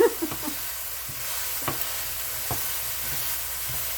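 Soft, steady sizzling of meat frying in a pan for turkey goulash, with a few faint clicks and scrapes of stirring, no voices.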